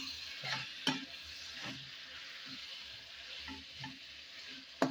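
Vegetable rice with lemon and chili is stirred in a frying pan, making a soft, faint sizzle with a few scraping stir strokes and clicks from the utensil.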